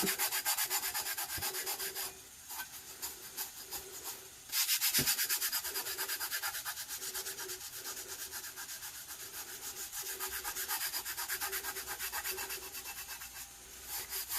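A tumbler being hand-rubbed with glitter using the Tack It method gives a steady close scraping rub that runs almost continuously, pausing briefly near the middle.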